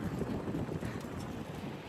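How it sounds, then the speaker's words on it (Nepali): Strong, cold sea wind buffets the microphone by the ocean beside a hotel, a dull, continuous rumble with faint surf underneath, brief and unbroken with no voices. "फेरि यहाँ आयो भने बब्बाल हावा चल्छ क्या, एकदम चिसो।"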